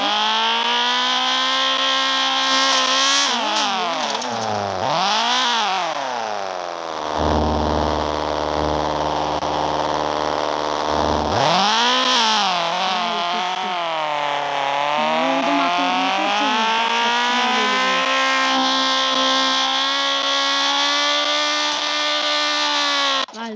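A car engine in the Roblox video game revs and shifts pitch repeatedly while driving, loud and close throughout, with rising and falling whines and a voice talking over parts of it.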